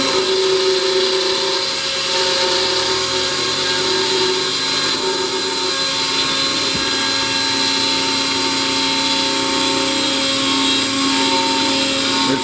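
A CNC router spindle carves wood for solid mugs and tankards, a steady high-pitched whine with grinding cutter noise running continuously and fairly loud throughout, with no voices.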